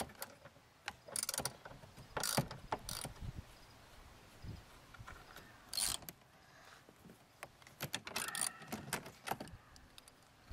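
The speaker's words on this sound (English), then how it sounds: "we'll grab our 10mm socket and remove the retaining flange nuts" Ratchet with a 10mm socket loosening the flange nuts that hold a side mirror on a 2003 Chevy Impala, heard as bursts of quick clicking and metallic rattling in short spells with quiet gaps between, close and moderately loud.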